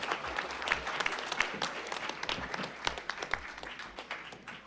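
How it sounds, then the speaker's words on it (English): Audience applause at an AI innovation challenge finals event, a sustained patter of many hands clapping at moderate distance, fairly quiet and steady. "David from Microsoft, give him a round of applause."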